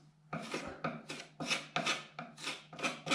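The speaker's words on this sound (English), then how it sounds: "go over with your little filling knife first" Small filling knife scraping filler across a surface, about seven evenly spaced rasping strokes, close and faint, no talking.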